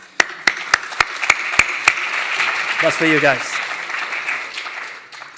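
Sharp, evenly spaced claps ring out at a London marketing conference, a short burst of about eight hand claps that fades as someone speaks briefly over the room.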